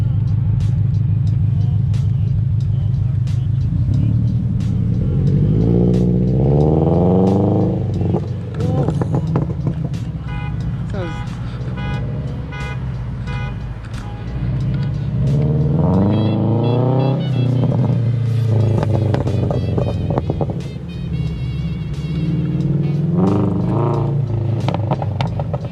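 A Rocket Bunny-kitted Toyota FRS engine runs loud and close, a steady low rumble with rising revs that swell and fade several times, while people talk over it.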